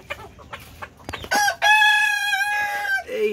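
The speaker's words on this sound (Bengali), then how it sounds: "এই হচ্ছে সব থেকে ছোট সাইজের মুরগি" A Malaysian Serama, the tiny bantam chicken breed, crows once up close in a loud, drawn-out call, preceded by a few short clucks and scratchy noises and ending with a low trailing cluck.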